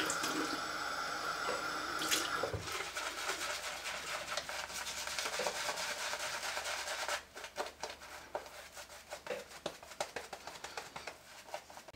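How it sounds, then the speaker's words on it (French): Tap water runs steadily into a sink during a traditional wet shave with a Merkur Futur safety razor, a continuous close rush that thins after a few seconds into intermittent splashes and rubbing, with no talk. "Un peu d'eau."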